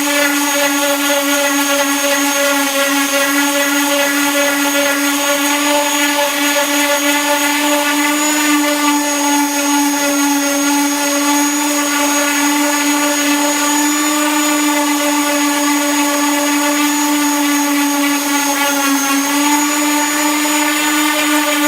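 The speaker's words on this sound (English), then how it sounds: "So let's sand some." Power sander working a wooden 1969 Camaro sign, a loud steady high-pitched whine that holds constant throughout with only slight dips in pitch, close up and alone.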